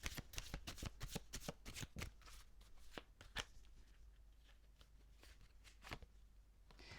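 A deck of oracle cards shuffled by hand, a rapid run of crisp riffling snaps and flicks that thins into scattered single card slaps, close and fairly quiet, with no voice.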